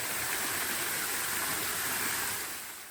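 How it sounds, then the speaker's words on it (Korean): Jogok waterfall at Mungyeong Saejae, a three-tiered fall about 45 m high, roars as a steady, dense wash of rushing water that fades slightly at the end, with no voices. "이곳은 조곡 폭포입니다."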